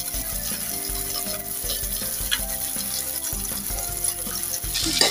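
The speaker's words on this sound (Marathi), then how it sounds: "कांदा छान परतून घ्यायचा." Chopped onion sautés in hot oil in a pan with a pinch of asafoetida, a close steady sizzle broken by the scrape and clatter of stirring.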